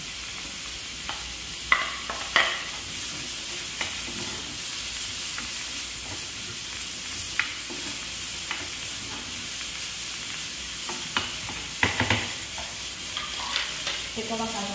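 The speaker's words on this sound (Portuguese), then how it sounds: "Já vou dourar aqui a pimentão," Bell pepper and onion sautéing in a pan in a farmhouse kitchen, a steady soft sizzle running throughout, broken by occasional scraping stirs and clinks of a utensil against the pan.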